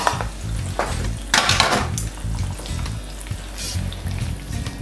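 Bacon sizzles in a frying pan for a breakfast, a steady close hiss broken by a few sharper crackles and the clink of a utensil against the pan.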